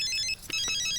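Electronic phone ringtone trilling in a steady repeating pattern of bright high tones, briefly interrupted by a couple of soft knocks before the ring resumes.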